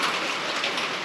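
Rain falls steadily as a dense, even hiss of drops on surfaces, close and continuous with no voices over it.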